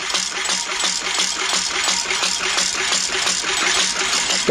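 A car engine idles steadily while its ignition timing is adjusted, a loud continuous rumble with rattling pulses throughout and no talk.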